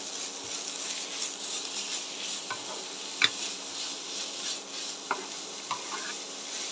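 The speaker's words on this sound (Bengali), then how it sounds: "সবগুলো উপকরণ আমি ভেজে নেব" Grated carrot and beet being fried with semolina in a pan give a steady soft sizzle, with a few sharp clicks and scrapes of stirring near the pan.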